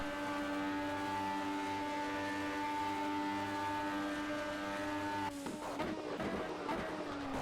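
LMP1 race car engine in the Project CARS racing game, a steady, high-pitched whine holding one pitch before breaking into a rougher, shifting note near the end, with no talk over it.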